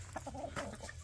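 Blue Australorp chickens clucking in a yard: a quick, soft run of low clucks and murmurs at moderate distance, brief and unaccompanied by talk.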